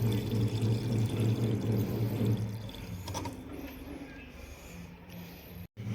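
Petrol pours into a motorbike's fuel tank with a steady gurgling rush over a low hum for about three seconds, then thins to a faint trickle and stops, close by.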